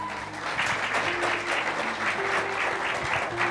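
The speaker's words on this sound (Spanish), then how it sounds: "Démosle un aplauso al Señor." Church congregation applauding steadily and loudly throughout, a dense wash of clapping with a faint murmur of voices beneath.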